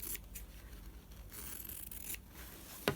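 Scissors snip through serged ribbon beside the thread, making repeated close crisp cuts with a scraping fabric texture and no voices.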